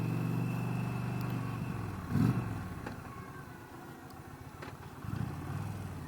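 The engine of a 2020 Dodge Challenger runs steadily and smoothly at a low, even hum, with a brief louder swell near the start and another later.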